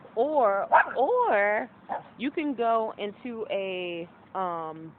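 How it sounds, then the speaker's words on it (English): A dog out on a walk gives high, wavering whimpers and short yips that rise and fall in quick bursts, mixed in with a person talking nearby. "that's my dog because I'm walking her"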